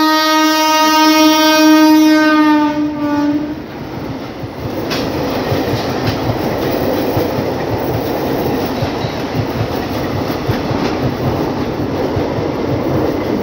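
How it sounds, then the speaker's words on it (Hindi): The Amritsar–Darbhanga Jan Nayak Express passenger train 15212 sounds a long, loud horn, then rolls past close by with a steady roar and clattering of wheels over rail joints. "It's a Jannayak express 15-11 sir."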